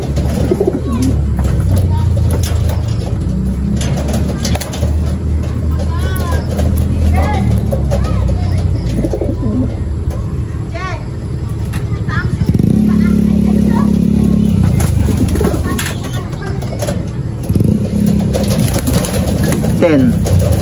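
Pigeons coo during a close-range homing pigeon training session, with flapping wings mixed in over a steady hum of passing vehicles and people talking nearby.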